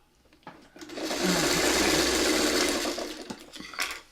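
A sewing machine stitches a long quilt seam in one steady, loud, close whir lasting a few seconds, with faint handling clicks before and after and no talking.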